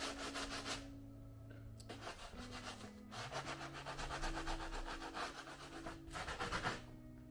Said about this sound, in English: start cleaning up the bottoms with a stiff bristle brush